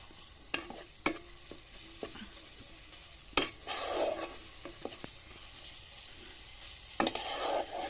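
Food is stirred in a pan with a little added water, giving scraping strokes, soft clinks and bursts of sizzling in irregular spurts, close up with no talk.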